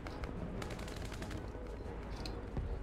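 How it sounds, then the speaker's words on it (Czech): Rapid cannon fire from an M163 Vulcan anti-aircraft system in War Thunder, a dense continuous burst of gunfire with sharp cracks running steadily throughout, loud and with no talking. "tady tenhle kanon má tuším nějakých 6000 výstřelů za minutu"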